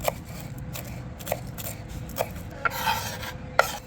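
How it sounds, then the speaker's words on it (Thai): A knife chops steadily through sawtooth coriander leaves on a board, with soft rhythmic cuts and a few sharper taps over a low background rumble. "ขั้นตอนแรกก็มาซอยผักชีใบเลื่อยนะครับ"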